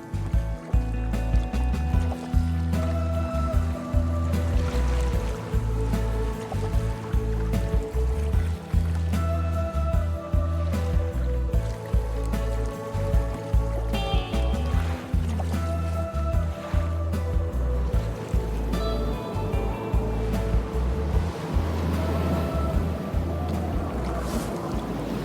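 Sailboat cutting through the water of an Arctic fjord during an impromptu race, with a steady wash and rumble of hull and waves running throughout, close and continuous.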